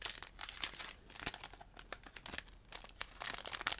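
Crinkly plastic wrapper of a Pokémon card booster pack from a Pikachu VMAX box being torn open, a dense run of close crackling and crumpling rustles with no talking.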